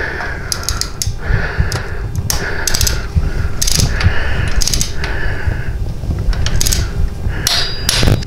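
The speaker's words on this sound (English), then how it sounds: "And you're gonna torque these to 18 to 22 foot-pounds." A wrench ratchets and clicks repeatedly while bolts are torqued on a Harley Touring motorcycle, steady metallic ratcheting strokes close up with brief knocks, no talking.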